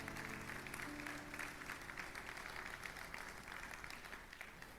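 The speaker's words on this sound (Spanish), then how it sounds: "Dele fuerte ese aplauso a la palabra del Señor." A church congregation gives a sustained round of applause during a sermon, a steady wash of clapping heard at a distance and fairly faint, with a few voices mixed in.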